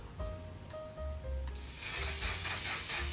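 A makeup setting spray is misted in a long steady hiss that starts after a faint stretch of background music and carries on to the end, close and fairly loud.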